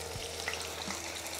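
Chicken thighs frying in a pan, a quiet steady sizzle with a few soft pops and crackles, heard up close with no talk.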